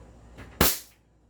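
A single sharp shot from a green limited-edition airsoft Glock 17 pistol, close and loud with a quick decay, preceded by a faint mechanical click.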